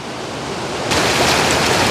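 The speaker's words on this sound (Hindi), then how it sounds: "लकड़ी की बनी हुई नाली है, उसमें से पानी कितनी स्पीड से गुजर रहा है" Water rushes at speed through a wooden channel feeding a water-powered flour mill, a dense steady roar that swells louder partway through, close and continuous with no voices.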